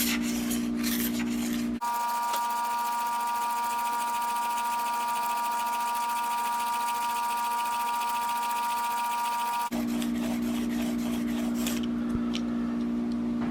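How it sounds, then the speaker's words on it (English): Steady, continuous rasping of a DXB Big Game 3 broadhead stroked across a 1200 grit sharpening plate, close and even, with a constant tonal hum running beneath and a brief scrape at each end. "I'm going to now sharpen it at 1200 grit, and then I will come back and break the burr off with this grit"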